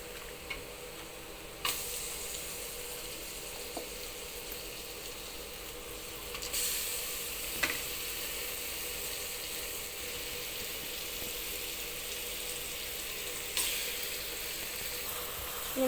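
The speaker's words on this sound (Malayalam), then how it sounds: "നമുക്ക് കഴുകി കട്ട് ചെയ്ത് വെച്ചിട്ടുള്ള ചിക്കൻ ഇതിലേക്ക് ചേർത്ത് കൊടുക്കാം" Small chicken pieces for a Kerala-style chicken roast fry over a low flame in a pan, giving a steady, quiet sizzle broken by a few sharp clicks and taps.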